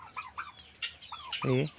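A local hen on a chicken farm in Sorbhog, Assam gives a few quick soft clucks followed by a louder drawn-out squawk, close and fairly faint against quiet surroundings.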